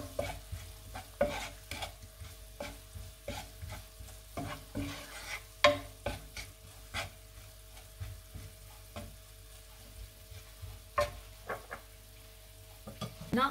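Rice and salt stirred in a pot, with a steady run of scraping, clinking strokes and a soft sizzle beneath, close and moderately loud with no talking.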